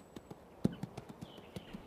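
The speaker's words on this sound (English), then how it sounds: "This 2-year-old quarter horse stud, born on the open range, has never been handled." Hooves of a young quarter horse stud clop in a steady walking rhythm, roughly a dozen soft, fairly close strikes on the ground, one landing noticeably harder than the rest.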